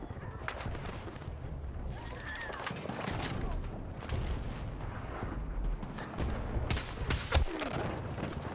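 Dense, continuous battle noise from the video game Battlefield 6, with rapid gunfire bursts and heavy booms layered throughout, loud and busy with no pauses, and a player's voice faintly present.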